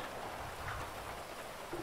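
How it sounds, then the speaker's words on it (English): Steady rain falling in a video game: an even, continuous hiss of downpour that stays at the same level throughout, with no voices over it. "it's still raining like a mug in your session too"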